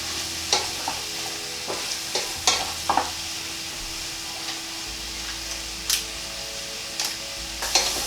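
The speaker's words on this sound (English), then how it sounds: "once you start frying them they'll just shrink down a little bit" Quiet, steady sizzling of mushrooms frying in a saucepan, with occasional scrapes and taps from stirring.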